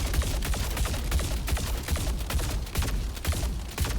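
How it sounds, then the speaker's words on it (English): The Fresnel Volt light machine gun fires in a video game in rapid, continuous bursts. Dense, loud, punchy shots crowd together with brief gaps, and no voices are heard. "When you fire this gun in the beginning, like this, it's 550 rounds per minute."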